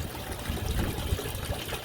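Water trickles steadily from an aquaponics pump inlet into a rock grow box fed from a fish tank, a close, continuous splashing dribble with no talk.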